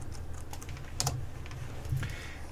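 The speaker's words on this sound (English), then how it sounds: "So I'll type in that" Quiet, rapid typing on a computer keyboard, a steady patter of light key clicks with a couple of firmer taps, alone without talk.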